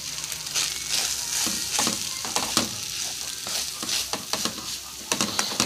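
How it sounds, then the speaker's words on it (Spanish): Onion and chile sizzle in ground meat in a hot pan, a steady crackling fry with repeated scraping stirs near the mic, no voices. "vamos a ponerle ahorita lo que es la cebolla y el chile a nuestra carne molida"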